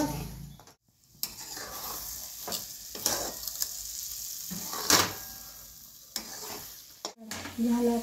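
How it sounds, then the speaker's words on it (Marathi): A spoon stirs sheera, a sweet semolina prasad, in a pan after cardamom powder goes in, making scraping strokes and soft clinks against the metal over a faint sizzle, with a brief pause near the start. "सगळ्यात शेवटी विलायची पावडर टाकायची आणि हलवून"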